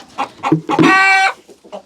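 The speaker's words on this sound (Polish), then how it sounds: "Coraz gorzej się zachowują te kury." Chickens cluck in short bursts close by, with one drawn-out squawking call in the middle.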